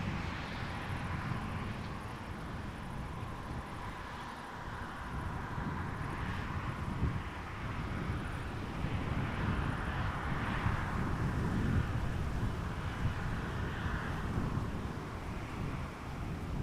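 A KLM airliner arrives at Amsterdam Schiphol Airport on a summer evening, its engines a steady, broad roar that holds for the whole stretch at moderate distance, mixed with wind buffeting the microphone.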